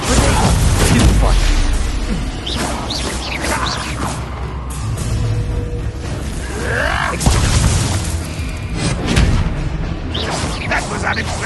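Magic spell effects from Hogwarts Legacy, with a Stupefy spell cast amid combat: continuous booming, whooshing bursts and mechanical clatter, loud and dense throughout, with a sharp impact near the middle.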